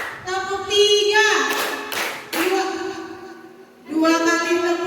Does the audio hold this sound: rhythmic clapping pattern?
yes